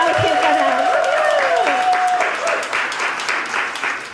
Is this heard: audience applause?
yes